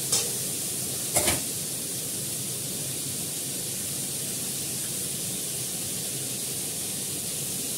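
Panch phoron seeds with turmeric and salt hit hot oil and give a steady, loud, hissing sizzle that fills the whole stretch, with a couple of sharp clatters near the start and no voices.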